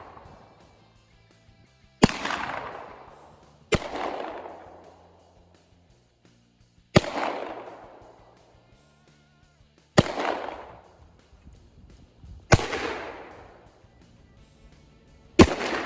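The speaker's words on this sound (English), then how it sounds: "We're going to be shooting a 9mm, right? 450 Bushmaster, a couple different ones of those" Gunfire from a 9mm and a .450 Bushmaster outdoors: six sharp, loud reports spaced a few seconds apart, each with a decaying echo tail.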